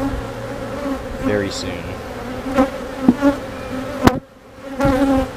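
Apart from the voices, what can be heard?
honeybee colony buzzing in an open hive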